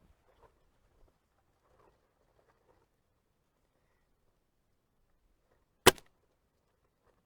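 A single sharp crack from a Gamo Swarm airgun fired at range targets stands out alone against near silence, with a few faint knocks earlier.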